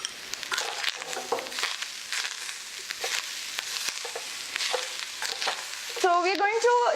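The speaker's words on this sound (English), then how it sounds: "So we're going to just mix this till the time the jaggery starts melting." Grated coconut and jaggery are stirred in clarified butter in a pan for modak filling, making a soft continuous scraping sizzle with small crackles. A brief tonal whine rises near the end, and no one speaks.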